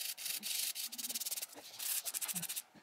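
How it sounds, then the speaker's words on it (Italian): A gentle nail file slowly rubs across a fingernail during a manicure, giving close, steady scraping strokes in repeated short bursts with brief pauses between them and no voices. "con la lima meno aggressiva vado a limare piano piano"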